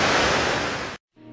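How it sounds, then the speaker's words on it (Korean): Water pours steadily into the deep 9/11 memorial pools in New York, a loud, even roar of falling water that cuts off abruptly, leaving a faint low hum. "블랙홀처럼 끝이 보이지 않는 곳으로 흘러들어가는 폭포 소리가"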